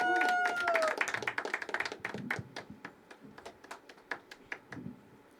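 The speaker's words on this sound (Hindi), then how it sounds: "अगले आर्टिस्ट को बुलाते हैं, ज़ोरदार तालियां कंटिन्यू करें" Applause at a poetry open mic: a small audience claps, starting full and dense and then thinning into scattered individual claps that fade out, heard close in a modest room.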